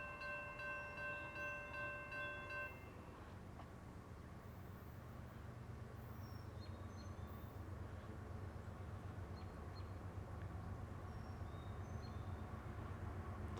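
A CSX freight train of grain cars passes at Marion, North Carolina, with a brief horn chord at the start, then a faint, steady distant rumble of rolling wagons.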